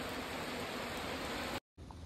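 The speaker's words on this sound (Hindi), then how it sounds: "यहाँ पे बारिश हो रहा है" Rain pouring down in Assam during a motorcycle trip on a Hero Xpulse 200 4V, a dense steady hiss with a sudden brief dropout near the end before the downpour resumes.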